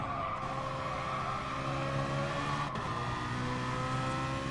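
A race car at Monza in Gran Turismo Sport, braking into a corner with a sustained engine whine and tyre squeal, steady and fairly loud, with a brief sharp click partway through.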